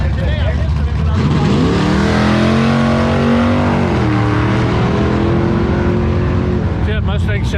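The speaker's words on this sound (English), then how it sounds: "See that Mustang sat there for about a second because he was spooling up." A Mustang drag car sits at the line on an airfield runway drag strip, its engine spooling up in a loud, sustained, rising roar that holds for several seconds. Voices are heard over the engine.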